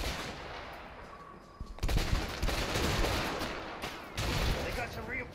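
Bursts of gunfire ring out in the video game A Way Out, clustered volleys starting partway through and continuing over a loud, busy background.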